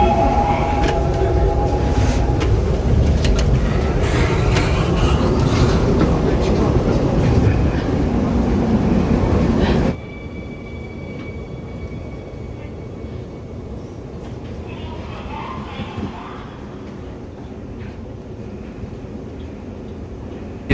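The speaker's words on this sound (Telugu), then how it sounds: "ఇది గ్రీన్ లైన్ కాబట్టి ట్రైన్ కూడా మొత్తం గ్రీన్గా ఉంటుంది" A Seoul subway Green Line train runs underground, a loud continuous rumble and rush that drops abruptly to a quieter interior hum midway, with faint tones and voices in the background.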